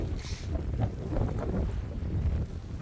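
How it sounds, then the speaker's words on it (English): Strong wind buffeting the microphone on an island beach in Lombok's Gili islands: a continuous low roar and rumble with gusty swells and no clear talk. "I don't know whether you can even see or hear us because it's windy as hell"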